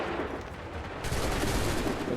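A dense musket volley rolls out in a battle from the Assassin's Creed 3 video game, a sustained roar of overlapping shots that swells louder after the first second and carries on without a break.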